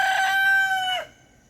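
A rooster crows once, loud and close. The crow is drawn out and trails off sharply at the end. No voices are heard.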